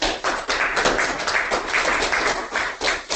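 An audience applauds at a technical talk on GPU-accelerated XGBoost, giving a dense, steady wash of many hands clapping for about three seconds with no voices over it.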